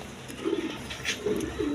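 Pigeons coo at a pigeon loft housing yellow Gorra birds, with several low, throaty coos in short bursts over a soft ambient hum, moderately close and with no talking.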